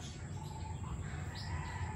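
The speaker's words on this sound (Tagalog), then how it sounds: "Nakakainis kasi ang dami-daming ibon ngayon." Birds chirp faintly outdoors near Phalaenopsis orchids, a few short calls over low background noise.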